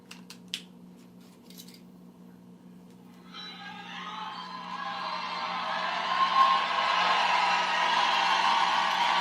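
A large crowd at a Trump rally in Pennsylvania, heard as a played-back recording, starts near silence with a few faint clicks, then swells into sustained cheering and roaring that grows louder toward the end.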